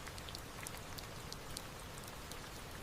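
Quiet rain falls steadily in a misty island forest, a faint, even patter with scattered soft drips, with no voices or other sounds over it.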